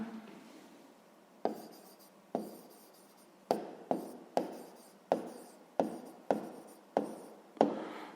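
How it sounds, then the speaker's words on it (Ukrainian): Handwriting an answer to a sixth-grade maths exercise: a pen scratches across paper in a series of short, close strokes, each starting sharply and fading, about ten in a steady rhythm with no talking. "Ну що ж, записуємо відповідь."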